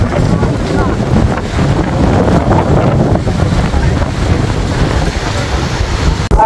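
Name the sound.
strong wind over rough Meghna river at Ilisha launch ghat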